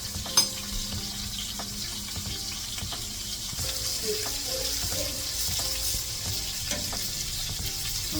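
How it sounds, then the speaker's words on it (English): Pot roast searing in a hot pan as one side browns, giving a steady close sizzle and hiss with a few faint clinks and knocks, and no talking. "we're going to let this side brown, and we're going to do 7 minutes"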